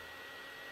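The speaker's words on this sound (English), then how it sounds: "The automatic hoover." Steady electric whir of an automatic robot vacuum cleaner running at home, a continuous broadband motor hum that stays even and unbroken throughout.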